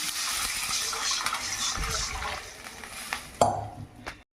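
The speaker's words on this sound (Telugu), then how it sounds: "నేను రెండు కప్పులు వాటర్ పోస్తున్నాను" Two cups of water pour into a pan for vegetable semiya upma, a steady close splashing rush that tapers off, followed by a clink of utensils.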